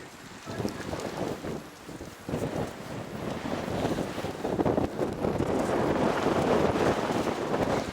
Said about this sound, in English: The wind is really strong at the moment.